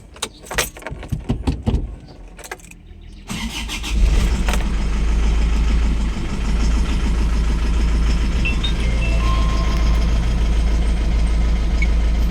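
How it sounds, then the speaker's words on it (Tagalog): Keys jangle before an Isuzu Traviz, running hot, is started; the engine catches after about four seconds and settles into a loud, steady idle close by, with a shaky, uneven running condition. "Kaso nga lang, ayan, parang may palya yung makina niya."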